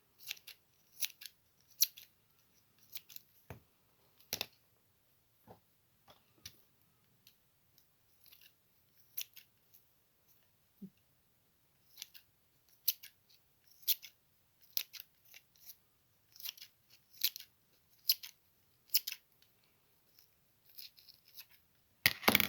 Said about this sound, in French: J'ai plusieurs paire de ciseaux à nettoyer et du coup ensuite à limer